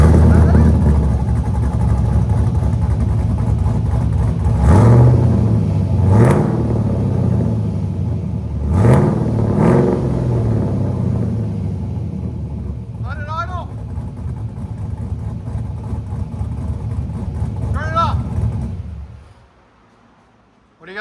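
Loud idling and revving car exhaust through a Vibrant 1794 3-inch inlet, 3-inch outlet muffler, with a low steady rumble, several sharp rev blips near the start and quieter blips later before it cuts off; speech-like sounds mix in.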